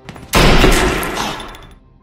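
A pistol fires in a mafia hitman action film scene, a single loud, sharp blast with a noisy tail that fades over about one and a half seconds.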